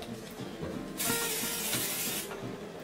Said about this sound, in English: I think I sprayed it a little bit too close